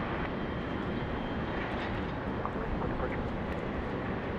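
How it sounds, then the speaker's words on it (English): A Kalitta Air Boeing 777 in DHL service taxies out of the northern apron at Sydney Airport, its engines making a steady, moderately loud jet roar throughout. Faint voices may sit underneath. "This is DHL 777 coming out of the northern apron."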